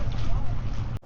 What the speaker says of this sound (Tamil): நாங்கள் இப்போ இந்த படகு தான் போக போகிறோம்.